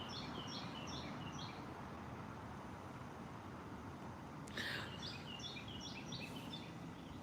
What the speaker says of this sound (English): Let's listen at the bird.